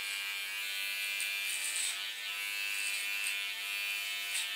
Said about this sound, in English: The side shave. I do this with a clipper comb.